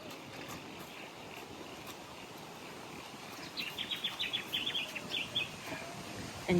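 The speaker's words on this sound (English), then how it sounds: "And you can hear the bird." Birds chirp in Tidbinbilla Nature Reserve, a run of quick, bright, faint calls rising over a steady outdoor hiss and rumble of wind and distant water.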